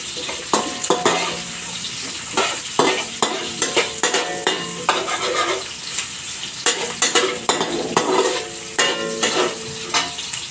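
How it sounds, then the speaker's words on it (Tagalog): Onions, garlic and ginger sautéing in a hot pan, a steady sizzle of frying under repeated stirring and scraping of a utensil against the pan, close and fairly loud, with no talk. "saka natin igigisa lahat-lahat"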